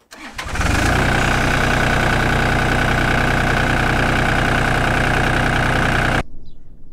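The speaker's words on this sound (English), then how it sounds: "the sound of this tractor" A tractor engine starts up, then settles into a loud, steady low rumbling idle that runs for several seconds before cutting off abruptly.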